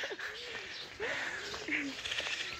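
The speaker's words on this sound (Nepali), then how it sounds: "चराहरूको चिरबिर आवाज," Small birds chirp and a dove coos at sunrise in a Nepali village in Gunjanagar, Chitwan: several coos and wavering calls over a steady outdoor hiss, close and fairly clear, with no talking.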